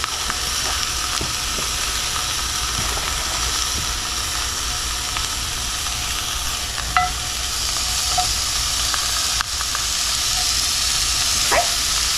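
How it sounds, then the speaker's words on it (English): Pork sausages fry in a preheated cast-iron skillet, giving a steady, fairly loud broadband sizzle throughout with a few small pops and crackles. "Now this is an iron skillet, and I preheated it just a little bit. We're gonna lay our sausages in here."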